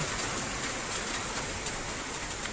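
Heavy rain falls steadily in Japan, a dense, even hiss that holds at the same level throughout with no breaks and no voices.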